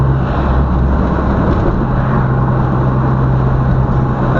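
Engine drone of a manual car on the road being shifted into fourth gear without the clutch, a loud steady rumble with road noise and no distinct shift clunk.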